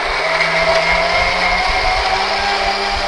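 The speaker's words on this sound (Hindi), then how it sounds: "अब जब हम मिक्सी को चलाते हैं" A kitchen mixer grinder blends leaves with water, a steady loud whirring motor drone with a churning wash running unbroken throughout.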